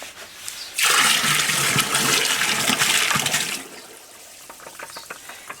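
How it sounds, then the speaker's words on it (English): A loud rush of water pours for about three seconds as 4 kg of mixed salt is tipped into water for tanning skins, then tapers into light trickling and small splashes. "I've just mixed up my 4 kgs of salt, and I'll tip that straight into my water."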